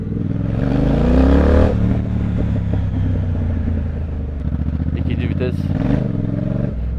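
A Triumph Speed Twin motorcycle engine rumbles and revs steadily throughout through its exhaust, with a rider's voice talking over it.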